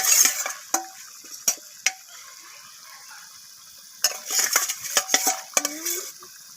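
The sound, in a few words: fried rohu fish pieces added and stirred into simmering masala gravy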